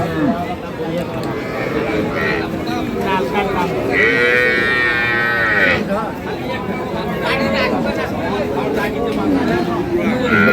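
A dairy cow at a cattle market in Ambari, Dinajpur, gives a long, close moo amid a crowd of chattering voices and other livestock calls.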